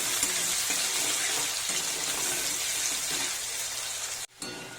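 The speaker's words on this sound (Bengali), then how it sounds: "পেঁয়াজ ভাজা হয়ে গেছে" Finely chopped onion fries in oil with whole cumin seeds for palak paneer, giving a continuous close hiss and sizzle. The sound breaks off abruptly near the end, then briefly returns.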